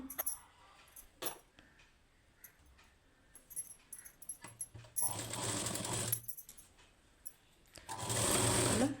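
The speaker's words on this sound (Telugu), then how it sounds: "లైనింగ్ పైన ఒక స్టిచ్చింగ్ వచ్చేలాగా స్టిచ్ చేసుకోవాలి" Sewing machine stitching a line along blouse lining, in bursts of steady mechanical whirring with brief clicks and handling between runs, loud and close, no talk.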